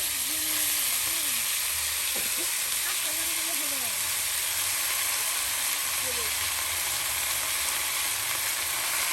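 Turmeric and chili powder sizzle in hot oil after tempering with dried chilies, bay leaf and nigella seeds for a gourd dish, a steady close frying hiss running throughout under faint bits of voice and stirring.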